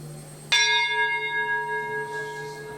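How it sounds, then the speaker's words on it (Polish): A single metallic strike on a gong rings out, leaving a long shimmering tone that slowly decays, heard alone in a quiet room. "nakręcenie tego gongu powoduje, że wyrzuca ten dźwięk"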